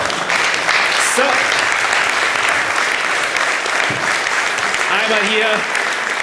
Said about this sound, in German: Wenn Sie kurz mit nach vorne kommen, kriegen Sie ganz großen Applaus.